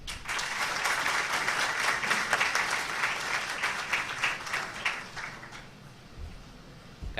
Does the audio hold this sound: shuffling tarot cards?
no